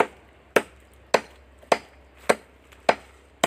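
Axe blows chopping down a large, decades-old hard tree in a garden cleared for chili and eggplant planting: six sharp, evenly spaced woody thwacks about half a second apart, each ringing briefly, fairly close with no talk.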